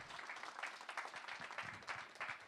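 A seated audience at a policy conference in California claps in a modest, fairly quiet round, with individual claps rippling unevenly across the room.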